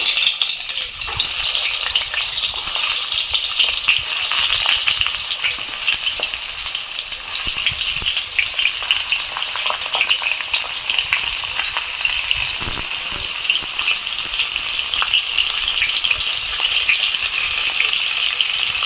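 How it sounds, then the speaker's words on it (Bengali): Pointed gourds (potol) stuffed with fish filling sizzle steadily in hot white oil in a kadai, a dense, continuous crackle close up throughout with faint clinks of turning and no talk. "তেলে আমি এখন পটলগুলো এক এক করে ছেড়ে দেবো"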